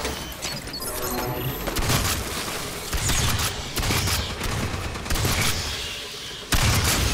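Gunfire from the co-op shooter Aliens Fireteam Elite erupts in loud, repeated bursts against swarming Xenomorphs, crackling rapidly with short gaps between volleys and a sharp final blast.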